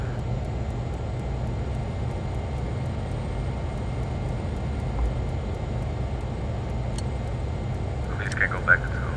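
A Flysimware Learjet 35A business jet taxiing in Microsoft Flight Simulator, its steady engine whine and low rumble holding constant throughout, with a faint voice near the end.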